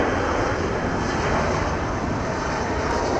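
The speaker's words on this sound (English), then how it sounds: "We've got a JSX Embraer 145 headed out here." A JSX Embraer 145 regional jet departing Dallas Love Field, its engine roar steady, loud and broadband throughout with no pauses and no voices.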